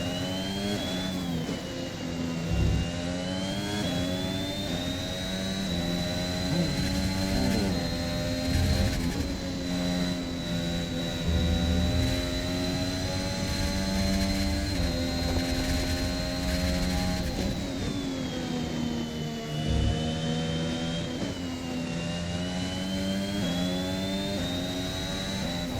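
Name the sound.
F1 car engine at full throttle in F1 2021 video game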